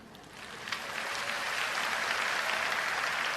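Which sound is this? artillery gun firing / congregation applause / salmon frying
congregation applause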